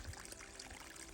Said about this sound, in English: A spring. Running water up here, right on the side of a mountain.